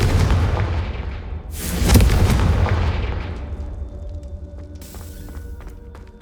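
The Confringo fire spell explodes in the Hogwarts Legacy video game, a loud booming blast near the two-second mark that rumbles and fades over a steady low background.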